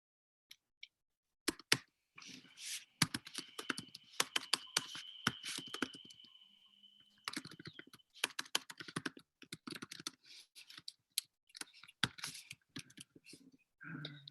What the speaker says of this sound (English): as we're just typing and organizing